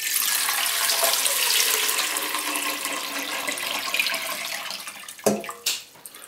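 Water poured steadily from a bucket into a 3-liter glass jar, a continuous close splashing rush that ends with a couple of sharp knocks as the pouring stops.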